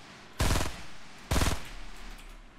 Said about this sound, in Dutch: Bij mij waren al die schoten op zijn lichaam gemikt, hoor.